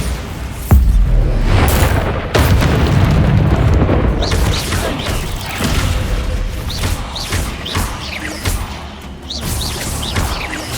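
Bombarda blasting spells exploding in Hogwarts Legacy, a loud booming blast followed by crashing debris and rumbling, with several further magical bursts and sparkling chimes through a busy game soundscape.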